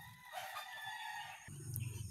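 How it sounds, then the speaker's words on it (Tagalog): Chickens cluck while a rooster crows loudly and close by at a farmyard feeding time, with the fowl noise continuing throughout. "Tapos na tayo magpakain sa mga manok."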